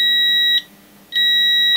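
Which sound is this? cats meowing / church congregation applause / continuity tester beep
continuity tester beep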